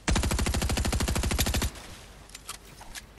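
Rapid automatic gunfire in a solo video game arena match, a loud, close burst of about twenty evenly spaced shots lasting over a second, then fading into quieter game ambience with a few faint distant sounds.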